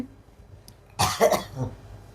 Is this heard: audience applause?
no